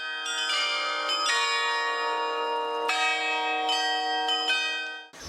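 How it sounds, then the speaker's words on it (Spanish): Carillon bells at a medieval town hall in Bad Langensalza, Germany, ring out a melody, a sequence of bright, sustained tones with overlapping resonance, moderately distant and clear with no voices. "Estas campanas pueden tocar 16 melodías en sonidos diferentes"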